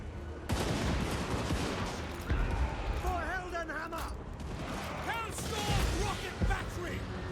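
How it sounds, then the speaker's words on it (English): Gunfire volleys aimed at Black Orcs in the Total War Warhammer 2 video game: dense crackling bursts of battle fire over a continuous combat din, mixed with distant shouting voices. "I want to get some solid volleys on these Black Orcs"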